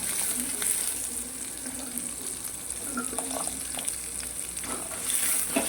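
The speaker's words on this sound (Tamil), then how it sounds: "இது நல்லா வதங்கட்டும் வெங்காயம் பூண்டு நல்லா வதங்கினது" Onion and garlic sauté in a pan for a Tamil manathakkali vathal kuzhambu. There is a steady, close hiss of frying, with a few light clinks from stirring scattered through it.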